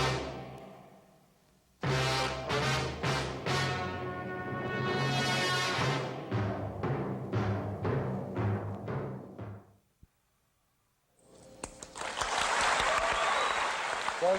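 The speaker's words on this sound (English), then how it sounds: "They clap whether they like it or not." A studio audience at a 1983 television variety show breaks into broad, steady clapping for about three seconds, following a long stretch of melodic music and a short pause.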